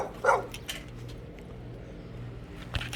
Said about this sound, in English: And the neighbor's dog is out barking up a storm.